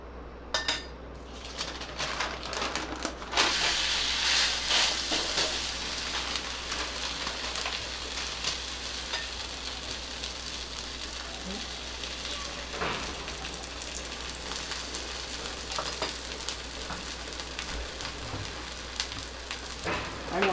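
Pohe thalipeeth frying in a little oil on a hot tawa, a faint continuous sizzle with occasional clinks of a utensil against the pan, no voices.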